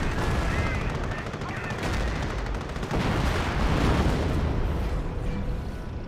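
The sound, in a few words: gunfire and artillery in video game Company of Heroes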